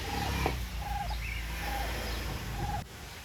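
A turkey hen and her chicks call repeatedly in short, clear bursts over a constant outdoor hiss. Several distinct calls come close together at moderate volume with no one talking.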